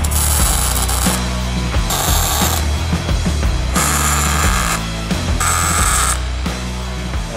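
Tack welding on a truss mount for a 14 bolt axle, a loud, close, continuous buzzing crackle that comes in several bursts with brief changes between them.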